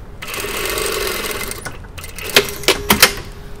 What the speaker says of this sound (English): I'm going to do another row of stitching a couple of millimeters down